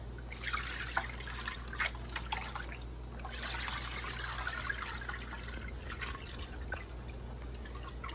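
Cold well water runs and trickles over blanched broccoli, a steady splashing stream with scattered drips, faint and continuous against a low background hum.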